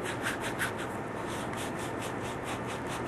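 A 3/4-inch copper 90-degree elbow fitting is scrubbed clean by hand. The scrubbing is a close, steady, rhythmic rubbing with no speech.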